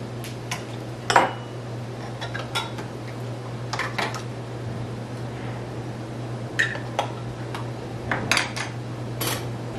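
Jar lids go onto glass canning jars of rutabaga with scattered light metal and glass clinks, set against a steady low hum.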